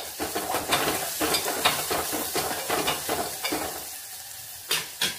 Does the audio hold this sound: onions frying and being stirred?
yes